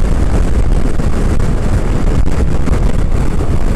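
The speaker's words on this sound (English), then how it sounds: "Ooh, it's loud. No, uh, it's also windier." Heavy wind buffets a side-mounted camera on a G-Max helmet on a gusty day, a loud, continuous low rumbling roar that fills the whole stretch without speech.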